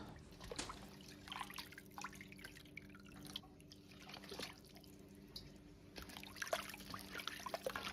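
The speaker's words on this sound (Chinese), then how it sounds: "接下来洗鹅肉，可以看下通过浸泡，这些血水基本上已经泡出来了" Goose meat being washed in a basin of water, with steady drips, trickles and sloshing splashes repeating throughout, close and moderately quiet, no talking.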